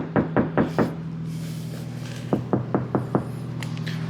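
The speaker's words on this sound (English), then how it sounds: "You would never know the difference other than sounds different when you close the door" Front door of a VW T6.1 camper van, fitted with sound deadening, shuts with a run of four short, dull knocks. A second run of four knocks follows after a pause, close and damped with little ring.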